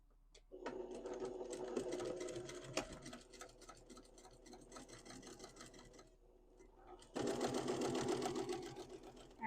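Sewing machine running steadily while stitching a pant hem, a close continuous whirring drone with a brief pause before it resumes louder.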